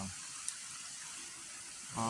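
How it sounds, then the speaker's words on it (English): Creek water flowing steadily through winter woods, a soft continuous broadband rush heard from nearby, alone without talk, with a faint brief tick near the start. "There's a creek behind me."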